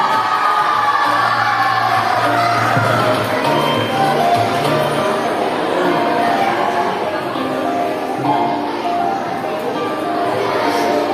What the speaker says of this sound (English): Everyone clap. These are the winners. Clap for them. Yes, come on. Cheer.